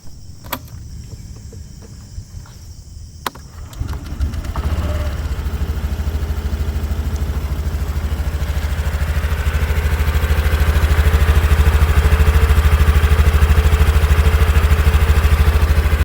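A fuel-injected Honda Activa 6G scooter starts after a few faint clicks, then idles with a steady low hum that grows slightly louder and stays even and close.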